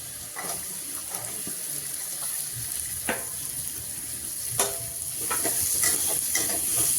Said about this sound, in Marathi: कांदा देखील परतून घेऊयात.